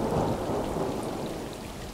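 Steady rain with low rumbling thunder in the cat adventure game Stray, a dense continuous wash of drops and rolling low rumble, loud and close with no talk.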